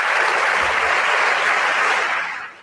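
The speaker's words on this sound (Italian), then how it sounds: "gli applausi calorosi, freschi, spontanei come questi qui che sono sgorgati dai cuori, dalle teste, dai cervelli dei deputati e dei senatori in aula stamani." Warm applause from deputies and senators in a parliamentary chamber, a dense, sustained clapping from a large crowd that fades out at the end.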